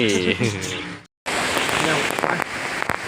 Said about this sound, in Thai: ย้ายย้ายฝนตกไม่ไหว